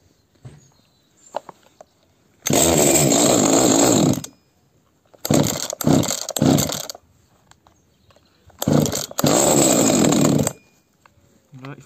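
A Zenoah G300 two-stroke engine under carburettor adjustment roars at high revs in three bursts of about two seconds each, falling back to a quiet idle and faint clicks between them.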